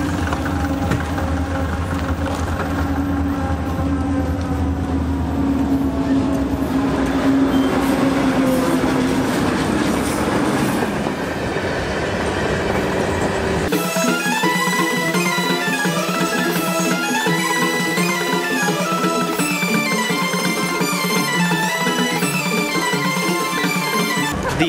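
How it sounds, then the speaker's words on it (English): A very long freight train, one of the longest in the world, rumbles in loud and close with screeching wheel tones and heavy clanking. Partway through, the sound shifts abruptly to a thinner, higher grinding and squealing that continues to the end. "the train will be arriving very shortly"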